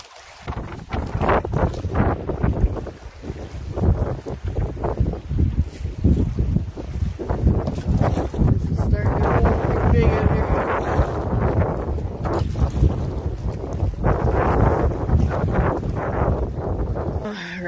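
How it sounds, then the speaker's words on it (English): Big waves slam a small boat as strong wind buffets it, a loud, continuous rushing roar broken by repeated heavy splashes and thumps from close by. "Monster waves here."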